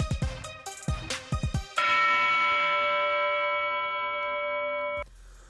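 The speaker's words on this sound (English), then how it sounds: "the dong sound you heard in the background, the dong bell" Dong bell sound effect played during a sports talk radio show, a short rapid run of struck tones followed by one sustained bell strike that rings out with a slow fade before cutting off, with no talk over it.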